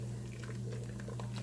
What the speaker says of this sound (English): Once we have the water boiling